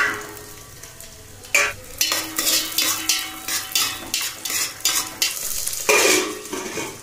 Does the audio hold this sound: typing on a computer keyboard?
no